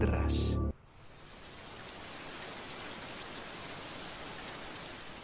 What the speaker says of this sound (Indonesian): tiba-tiba hujan ini turun dan cukup deras